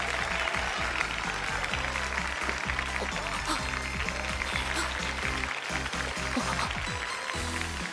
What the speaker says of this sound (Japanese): それじゃあ見事ラストアンサーを飾ってくれた越山くんに拍手。